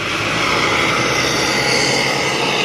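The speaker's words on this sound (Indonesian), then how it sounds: "Ini knalpotnya knalpot jet ya" Hino RK coach bus of the Lestari Alam Raya line from Solo, fitted with a jet-style exhaust, leaving a bus terminal; a loud, steady broadband roar with a jet-like whoosh, close and continuous with no talk.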